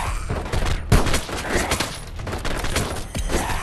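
Gunfire in the video game LifeAfter, a loud, sustained fusillade of rapid shots with heavy booming hits, continuous and close for the whole stretch.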